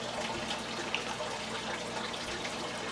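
Water runs steadily into fish tanks in a fish room, a continuous splashing, gurgling stream heard close up with no pause.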